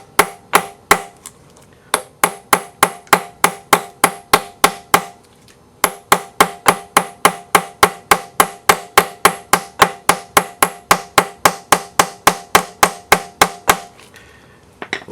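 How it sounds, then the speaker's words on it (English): A hammer taps a torque socket onto a bolt on an Audi A4 B5 1.8T engine, dozens of sharp metallic strikes in quick even runs with two short pauses, loud and close with no talk. "we're going to take that torque socket and we're going to tap it in"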